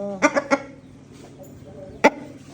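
A fighting rooster clucks nearby, three quick sharp clucks followed by a pause, then one more loud cluck, with soft low murmuring between.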